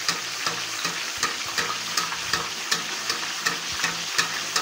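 Food sizzling steadily as it fries in a non-stick pan, with a continuous hiss broken by frequent light clicks and pops from stirring, close and fairly loud, no voices.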